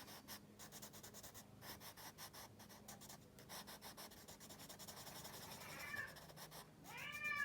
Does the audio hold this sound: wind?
no